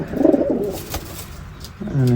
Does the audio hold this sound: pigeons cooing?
yes